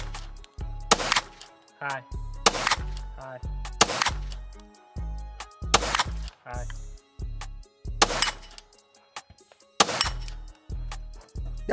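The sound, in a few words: gunshots from a pistol or rifle during a shooting drill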